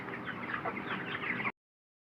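Chickens on a poultry farm cluck together in a busy, overlapping chorus at moderate distance, which cuts off suddenly into silence.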